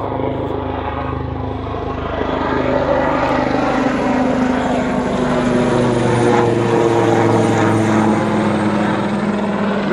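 A helicopter passes overhead above the River Tarrant in rural Dorset, its steady rotor and engine drone loud and continuous throughout, with no talking.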